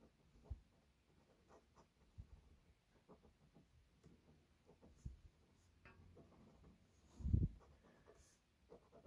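A dip pen scratches on rough paper while someone sketches in ink with light pressure, making faint, close scratchy strokes with one louder rasp near the end.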